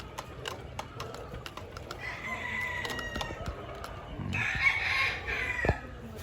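Gamefowl hens and roosters at the LG game farm crow and cluck repeatedly in short bursts against steady outdoor background noise, with one louder, nearer crow near the end.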